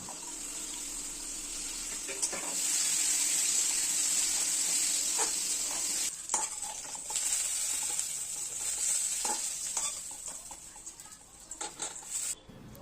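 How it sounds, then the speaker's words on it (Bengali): A dry red chilli and whole cumin seeds sizzle in hot oil for tempering, giving a steady bright hiss scattered with small pops and crackles. It stays close and continuous throughout, with no talking. "এবার ফোড়নের জন্য তেলে একটা শুকনো লঙ্কা আর গোটা জিরে দিয়ে দিয়েছি।"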